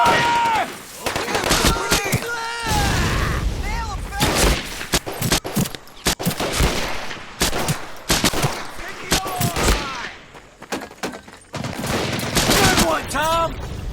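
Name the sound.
covering gunfire in Medal of Honor Pacific Assault video game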